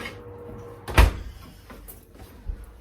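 A kitchen oven door shuts with one firm thump after a pan of sweet potato and carrot goes in to roast, followed by a softer knock and quiet handling.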